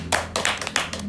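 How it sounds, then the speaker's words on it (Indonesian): A handful of sharp hand claps in a podcast studio, about four quick close bursts in a loose rhythm, alone with no talk over them. "tepuk tangan"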